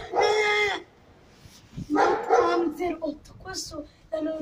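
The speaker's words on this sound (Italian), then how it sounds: "c'è il cane che abbaia" A dog barks in loud, harmonic bursts, a long bark at the start and several more later, with shorter yips in between, close by and distinct.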